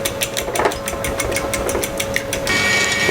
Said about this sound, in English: Just going to whisk that up.